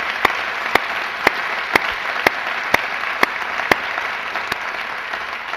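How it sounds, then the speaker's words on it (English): Audience applause at a Respect For Life 2013 gathering, a steady wash of hand claps, with sharp individual claps standing out at regular intervals over it. "let's just all give a round of applause"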